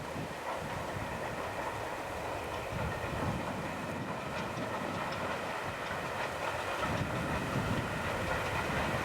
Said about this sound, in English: it's a southern region train of the type that used to be stored at Hither Green